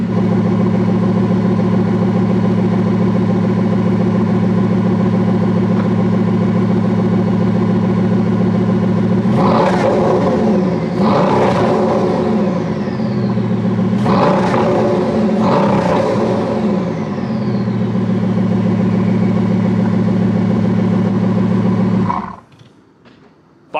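A Mansory Bugatti Veyron idles with a deep, steady engine drone, then gives four sharp revs in two pairs, each rising and falling quickly, before settling back to idle and cutting off near the end.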